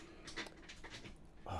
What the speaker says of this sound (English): dog is really annoying me now